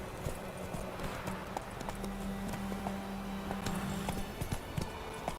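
Roach, the horse in The Witcher 3, gallops with a steady rhythmic clip-clop of hooves, close and continuous over a humming background.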